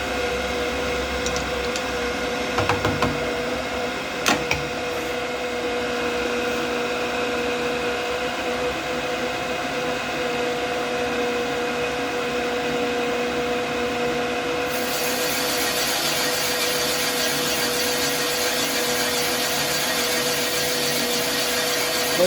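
A Rottler F2B boring machine cutting a cylinder bore in a Mopar 360 engine block gives a continuous mechanical whir with steady tonal hum, a couple of sharp clicks early on, and a brighter high-pitched cutting tone in the last third.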